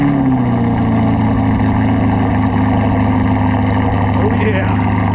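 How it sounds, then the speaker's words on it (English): A 2020 C8 Corvette with an AWE exhaust system fires up from cold into a loud, steady high idle, close by with a deep droning rumble. "we got to get a cold start of the AWE exhaust system on this C8 Corvette"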